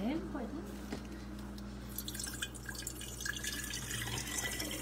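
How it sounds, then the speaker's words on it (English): Water is measured out for a new espresso coffee machine, making close dripping and trickling sounds with a few small splashes, while a voice murmurs underneath. "So I'm measuring the water out here."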